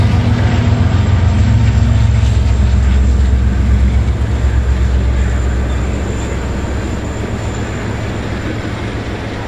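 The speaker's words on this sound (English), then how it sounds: "we catch empty coal train E951" A long empty CSX coal train rumbles past close by, a loud steady roar of rolling wagons with metallic rattling that slowly eases off toward the end.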